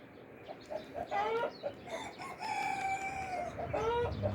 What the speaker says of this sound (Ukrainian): Така птиця. Це всі пескуни